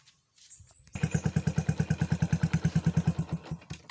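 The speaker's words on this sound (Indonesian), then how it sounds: "sekalian cek suara mesin." Yamaha Jupiter MX New motorcycle with an R9 exhaust fitted with a steel baffle filter: after a brief starter whir it fires up and settles into a close, rapid, evenly pulsing idle with light mechanical clatter.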